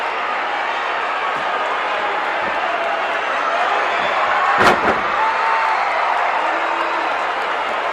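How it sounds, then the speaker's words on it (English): Jim Neidhart body slams an opponent onto a hard wrestling ring at a 1984 UWF Mid-South show; one sharp thud cuts through a steady, loud crowd roar. "here is another one of those smashing body slams by Jim Neidhart."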